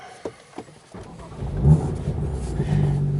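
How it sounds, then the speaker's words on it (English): A 2017 BMW M2 engine cranks and catches, then settles into a deep, rumbling idle through its loud M Performance exhaust, close by, with no talking. "That's the M Performance exhaust"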